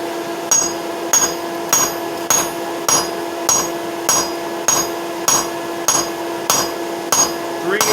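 Hammer blows forging hot 3/8 inch square steel stock into flat bar, a loud, steady rhythm of about a dozen sharp ringing strikes, each followed by a brief metallic ring.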